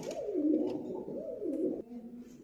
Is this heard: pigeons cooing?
yes